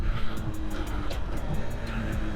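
Small four-stroke engine of a 2000 Yamaha YB1 50 Four motorcycle running steadily while being ridden, a continuous low droning hum with wind rush, close and fairly loud throughout.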